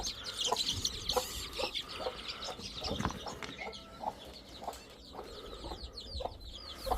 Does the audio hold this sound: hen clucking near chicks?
yes